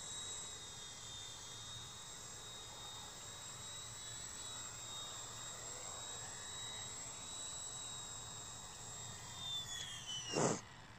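An XK127 micro RC helicopter whines steadily at a faint distance with a thin high rotor and motor tone, ending in a brief sharp burst as it sets down.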